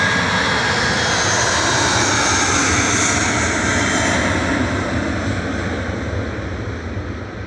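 British Airways Airbus A320-200 departing Manchester Airport for London Heathrow, a loud sustained jet engine roar that stays strong and then begins to fade near the end, with no voices.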